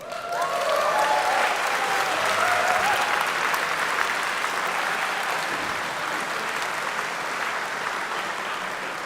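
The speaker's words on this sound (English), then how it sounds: "Applause for Dusty, please" An audience in a convention main hall applauds, a dense, sustained wash of clapping that holds steady and eases slightly toward the end.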